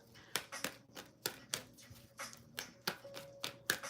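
Tarot cards are shuffled by hand, a quiet series of about a dozen crisp riffling snaps in steady rhythm, close and soft with no talk.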